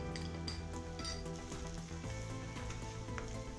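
Garlic and ginger sizzle steadily over onions in a single pan while cooking chicken fried rice, a continuous close frying hiss with faint clinks of a utensil against the pan.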